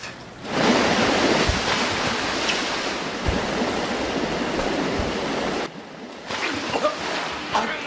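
Water gushing through a house flooded by a burst water heater in a shark movie, a loud continuous rushing roar that briefly drops away then returns with splashy bursts.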